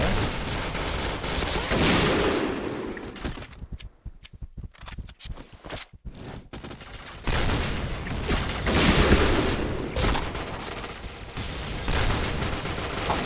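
Rapid in-game gunfire from sniper rifles such as the Kar98K, DSR-1 and SSG-69 in the online shooter Point Blank, with dense bursts of shots, a short gap of scattered cracks midway, then sustained loud firing again, no talking.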